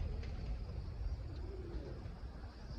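Pigeons coo softly outdoors on a windy Sunday just before being released to fly; the low, faint coos sit beneath steady wind rumble.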